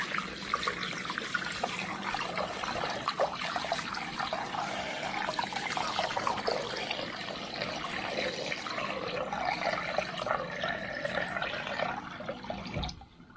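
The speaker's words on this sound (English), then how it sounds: "Auto air vent's really dirty. So give it a good little rinse." Running water rinses a dirty auto air vent from a Vaillant EcoTec boiler, a steady close trickling splash that holds for about thirteen seconds and stops abruptly near the end.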